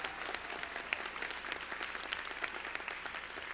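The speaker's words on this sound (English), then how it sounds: "Round of applause for them." Steady applause from a crowd at a 2019 graduation ceremony, dense continuous clapping at moderate volume for a few seconds, with no talk over it.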